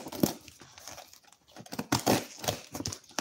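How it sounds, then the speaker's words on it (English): Cardboard of a shipped package is cut and torn open, giving loud scraping, crinkling rips in uneven bursts, close by and without talk. "shaking you guys up trying to cut this box"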